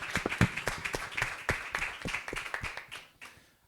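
A church congregation claps during a Sunday service: sharp, fairly close hand claps in an uneven rhythm over a soft crowd clatter, thinning and fading out toward the end.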